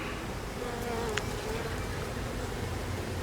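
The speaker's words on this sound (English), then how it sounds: "There's a bee up at the top" Honey bees buzz steadily inside a beehive during installation of a nuc into a full-size hive, a dense continuous hum close by with a brief sharper buzz of one bee passing near.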